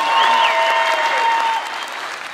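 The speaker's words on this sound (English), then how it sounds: "Keep some applause going for Joe, everybody." Studio audience applause and cheering for a guest on a live comedy talk show, loud at first and fading toward the end, with a whistle-like tone and voices over it.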